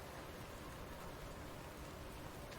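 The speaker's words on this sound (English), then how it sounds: "And of course it's raining." Rain in the survival video game The Infected: a steady, even hiss of falling rain, constant and fairly faint, with no talk.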